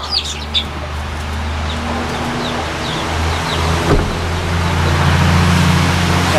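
Hens cluck and chirp in short, scattered bursts over a steady low hum of background noise, fairly near, with a sharp thump partway through.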